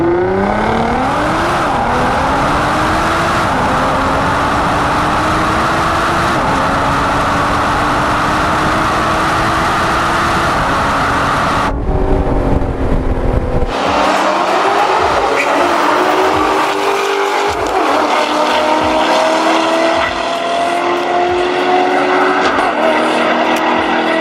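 Nissan GT-R R35 with a catback exhaust cruising around town in normal mode, engine note rising and shifting through gears, a brief louder burst midway, then a quieter rolling drone with light tire and road noise.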